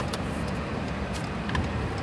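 A pickup truck driving on a road, heard from inside the cab as a steady, loud low rumble of engine and road noise with faint clicks, no voices.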